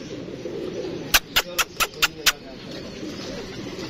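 Pigeons murmur low in the background as a female lands nearby, with a quick run of six sharp, evenly spaced pulses in the middle.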